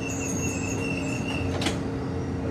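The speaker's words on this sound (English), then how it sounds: "Arriving next on track number 2 for the 5 o'clock Amtrak train" An Amtrak passenger train pulls into a station, its steady broadband rumble of wheels on rails rising under a faint high metallic wheel squeal, with no talk.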